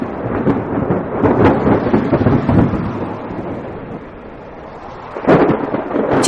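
Rumbling thunder rolls loudly over a wash of rain during a stormy night, fading to a quieter patter before another sharp thunder crack near the end.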